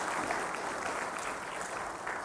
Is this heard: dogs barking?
no